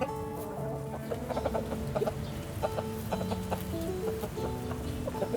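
Hens and a rooster cluck steadily near a backyard garden coop at feeding time, a busy overlapping chorus of short calls with occasional louder squawks.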